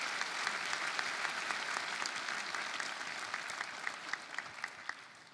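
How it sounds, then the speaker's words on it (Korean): Dense, sustained applause from a church congregation at a New Year's Eve service concert, steady throughout with a few sharper individual claps standing out near the end. "뜨거운 박수 다시 한번 부탁드리겠습니다."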